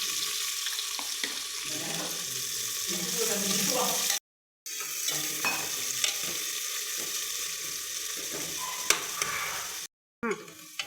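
Cumin seeds fry in hot oil for pulao, a moderate sizzle with stirring scrapes and a few sharp clinks, briefly cut to silence twice.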